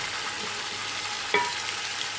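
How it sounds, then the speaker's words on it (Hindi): One kilogram of chicken frying in a pan with garlic ginger paste, a steady soft sizzle throughout with a single brief clink of a utensil stirring near the middle. "अब हम इसको इतना फ्राई करेंगे कि चिकन के ऊपर गोल्डन सा कलर आ जाए।"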